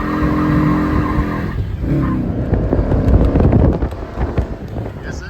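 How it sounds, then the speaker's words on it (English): A 1966 Mercury Comet Cyclone GT muscle car burns rubber, its engine roaring up as the tires squeal loudly and skid for several seconds, with wind buffeting the microphone. "it will burn rubber."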